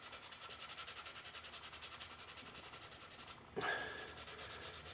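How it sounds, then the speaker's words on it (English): Steady rhythmic sanding strokes as linseed oil is worked into a walnut gun stock by hand, a continuous rasping rub with one brief pause and scrape before the strokes resume. "These hand-rubbed linseed oil stocks have the oil sanded in initially to fill the pores"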